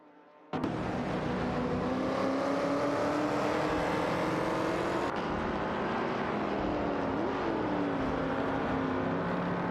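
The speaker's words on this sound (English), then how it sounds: "are driving a Ferrari 250 GTO, which is known for its speed and agility, while Arafale is also in a Holden Monaro 73" A Ferrari 250 GTO and a 1973 Holden Monaro racing in a video game: engines roar in abruptly, holding a loud, steady drone with shifting pitch as the cars run the track.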